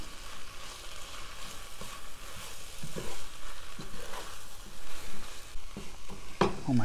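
Pre-mixed spices being stirred into a red onion sauce in a pan, a continuous sizzle with scattered stirring scrapes and a clatter near the end.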